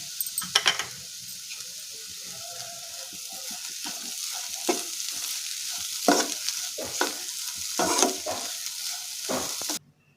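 Snake gourd curry fried in a pan with salt, chilli and turmeric is stirred in repeated scraping strokes over a soft, continuous sizzle, ending in a sudden cutoff.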